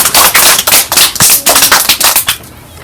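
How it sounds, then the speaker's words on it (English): Classroom children clap in a round of applause for a desert habitat presentation, a burst of dense, close handclaps lasting a few seconds before trailing off. "let's give our desert habitat a round of applause"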